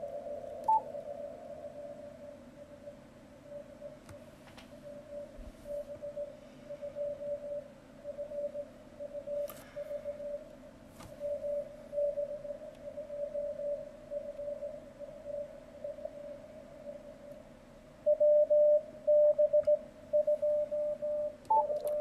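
Ham radio receiver audio through a narrow 50 hertz filter, a thin steady tone with choppy Morse-like keying pulses over faint background hiss, growing louder and more clipped toward the end.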